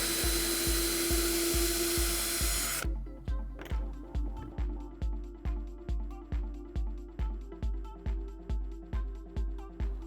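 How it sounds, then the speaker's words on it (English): A power drill with a star bit whines steadily driving screws, then stops; rhythmic ratcheting clicks follow at an even pace, close up, with no voices. "So I've got the drill."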